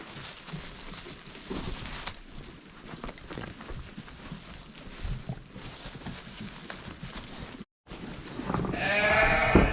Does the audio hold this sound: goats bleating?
yes